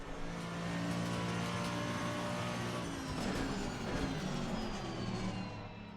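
A 2015 Mercedes-AMG GT3 racing engine in Assetto Corsa Competizione, a steady sustained drone that swells as the revs rise and fall, heard alone with no talk.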